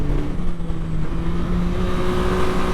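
A Yamaha MT-09 motorcycle engine with a semi-automatic Y-AMT gearbox drones steadily up close through a downshift, a strong constant tone that swells slightly as the revs rise, with no talking.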